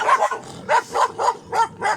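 Dogs bark repeatedly in quick loud bursts, close and insistent, about five sharp barks in two seconds with no talking.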